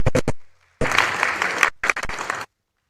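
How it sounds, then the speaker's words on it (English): Audience applause at a university seminar for lecturers, a short burst of clapping from a group that starts abruptly, then breaks off and resumes briefly before stopping into silence. "Can you please give me a round of applause?"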